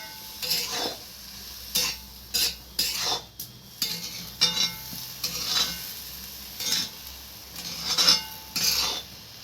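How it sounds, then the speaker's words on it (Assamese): Taro stirred with kola khar in a pot, a spoon scraping and knocking in repeated bursts with a soft sizzle underneath, close and fairly clear with no talk. "এতিয়া কলাখাৰখিনি দি পেলাই ভালকৈ মিক্স কৰি লৰাই লৈছে"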